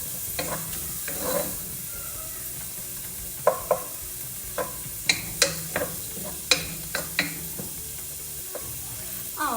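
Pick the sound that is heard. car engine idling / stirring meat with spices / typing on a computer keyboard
stirring meat with spices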